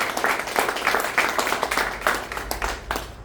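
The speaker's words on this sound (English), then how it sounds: "Clap it up for all the comedians that did their thing." An audience applauds comedians at a comedy night in the Boondangle Brewery in Bristol, with loud, continuous clapping from a nearby crowd.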